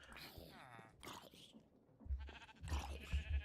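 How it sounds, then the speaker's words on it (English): Sheep in the game Minecraft bleat in short wavering calls, two or three of them, over quiet background with someone talking in between. "so we're here to shear some sheep"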